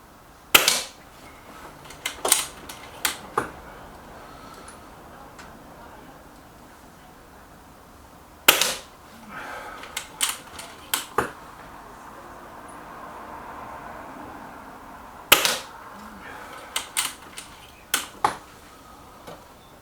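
A Stoeger XM1 bullpup air rifle fires JSB pellets, sharp cracks spaced several seconds apart, each followed by smaller clicks of cocking and loading, with faint background hum between shots.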